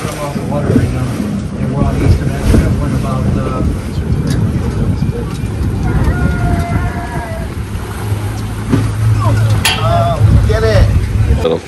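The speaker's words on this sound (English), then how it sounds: "We are in a boat looking for dolphins." Motorboat running on the open sea off Florida during a dolphin-watching trip, a steady engine and water rush continuing throughout with voices talking over it.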